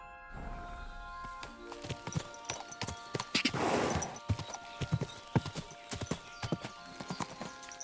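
Horse hooves clip-clopping in the medieval game Kingdom Come: Deliverance II, irregular close thuds of a ridden horse moving over ground, with a brief rush of louder noise midway and soft whinnying.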